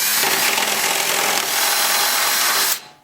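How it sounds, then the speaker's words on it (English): A power drill with a 31/64 bit bores a hole through a car hood, a loud steady whirring grind for nearly three seconds before stopping abruptly. "This is a 31/64 drill bit."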